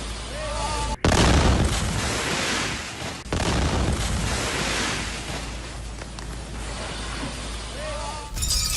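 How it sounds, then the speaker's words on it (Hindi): Missile strikes on Kyiv set off heavy explosions: a sudden deep blast, a second boom a couple of seconds later, then a roaring, rumbling wash that lingers, loud and broad like distant surf. "मिसाइल अटैक के बाद जोरदार धमाका।"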